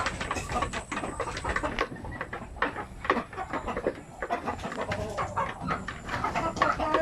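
A flock of Basilan hens clucks continuously and close by, many overlapping calls in a busy, steady chorus.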